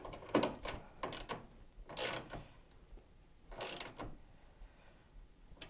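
Bolts being tightened on a bed stiffener in the bed of a second-generation Toyota Tacoma, heard as several short, loud ratcheting bursts with brief pauses between them, close by and with no talking.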